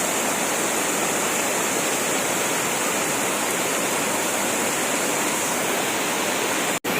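Sam Lan waterfall in a Sisaket wildlife sanctuary rushes in a loud, unbroken roar of falling water, close and steady, broken only by one brief click near the end.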